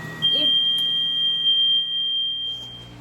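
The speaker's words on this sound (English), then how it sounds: "okay, that was my smoke detector" A smoke alarm, set off while laser-cutting acrylic, emits one long, shrill, steady electronic tone that holds for a couple of seconds before cutting off, with no voices.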